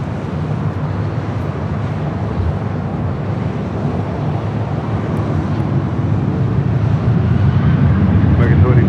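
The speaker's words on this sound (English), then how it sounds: "Southwest Airlines Flight 863 heading to Sacramento in the 737-800." A Southwest Airlines Boeing 737-800 at LAX, bound for Sacramento, makes a low engine rumble that slowly builds in loudness, with wind buffeting on the microphone.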